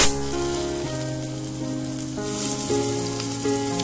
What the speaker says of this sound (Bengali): এই চিংড়ি মাছটা জাস্ট আমি ভেজে রেখে দেব